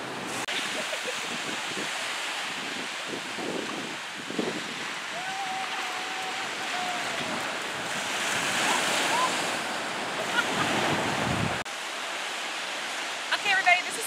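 Ocean waves break and wash on a beach in a steady, fairly loud roar with some wind buffeting, and brief faint voices come through near the end.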